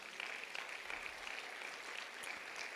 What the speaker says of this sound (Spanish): Pues un aplauso a las mamás otra vez.